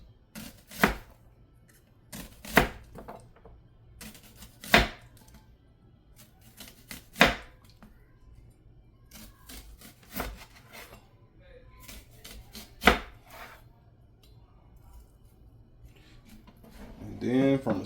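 A knife cuts through a vegetable onto a cutting board for fajita burger toppings, producing several crisp, sharp chops spaced a few seconds apart, close and clear over faint background noise.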